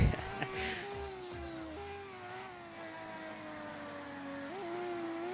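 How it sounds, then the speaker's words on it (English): A racing video game car engine drones in a steady, faint tone with a few small pitch shifts as it changes speed, running continuously in the background. "I can hear his car."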